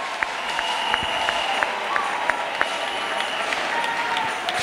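Church congregation applauding and cheering for Jesus Christ during a worship gathering, sustained dense clapping with sharp individual claps popping out, and voices murmuring and calling beneath it.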